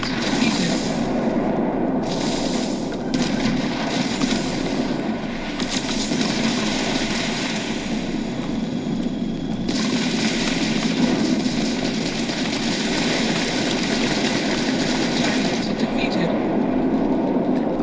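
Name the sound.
spaceship engine while piloting in Starfield video game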